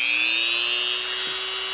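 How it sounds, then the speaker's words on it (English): A Dremel rotary tool with its smallest drill bit spins at a steady high whine while drilling into a typewriter key chip, loud and close, holding one even pitch with a slight dip near the end. "take your Dremel with the smallest drill bit"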